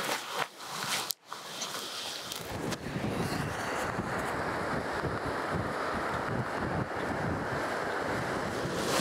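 Strong wind buffets a seaside dune, roaring steadily with gusts that batter the microphone, surf rumbling underneath and a brief dropout near the start.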